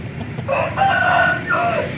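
A Thai fighting rooster crows once nearby, a drawn-out cock-a-doodle-doo over faint background rustle.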